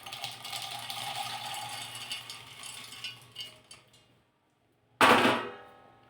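A mixer grinder coarsely pulses roasted, skinned peanuts and almonds with green cardamom, a steady whirring grind for about four seconds, a brief silence, then a second loud burst that fades out.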